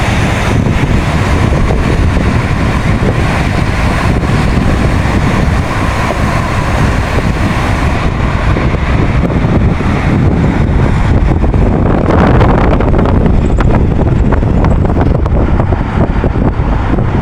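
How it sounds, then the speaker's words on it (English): Strong gusts blast across the microphone on the windy rooftop of a large Nairobi mall, making a loud, constant roaring rumble that does not let up. "it's crazily windy up there"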